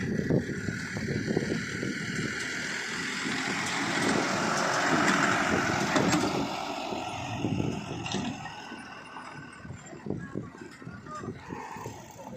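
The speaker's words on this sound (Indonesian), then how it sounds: "ada truk" A truck passes on a road near a sand mine, its engine rising into a broad roar at the midpoint and then fading, with people talking and animal-like calls scattered throughout.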